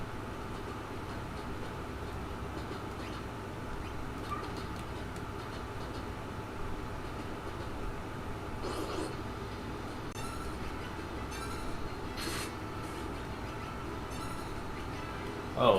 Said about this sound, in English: Ghost train?